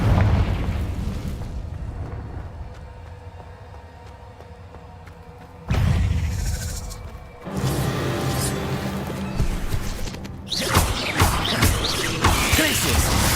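Confringo blasting spells fired in the Hogwarts Legacy video game, heard as two loud booming explosions, each with a sudden crack followed by a sustained fiery roar amid busy game effects.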